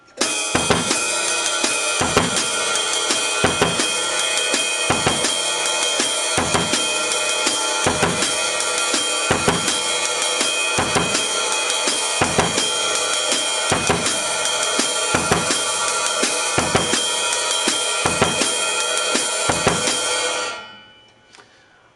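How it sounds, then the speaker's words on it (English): A steady baion drum groove with a washy cymbal played on its apex ringing throughout and regular low ostinato hits in a repeating pattern, played alone before fading out at the end. "I think it sounds better on the apex of the cymbal."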